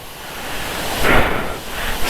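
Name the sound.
water overflowing a reservoir like a waterfall, Sirnapalli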